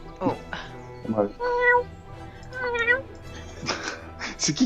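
A person imitates a cat, giving several drawn-out meows and caterwauls close to the mic, with speech-like breaks between the calls.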